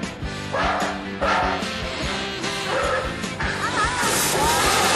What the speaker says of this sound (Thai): หยุดเห่านะ